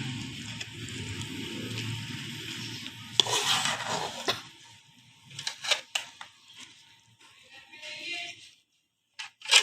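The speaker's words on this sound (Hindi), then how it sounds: "अब हम इसको मिक्स कर लेंगे।" Rice is stirred into cooked vegetables for chicken biryani, with a low bubbling hiss at first, then a run of short, close scraping and clinking strokes of the spoon against the pot, with no voices.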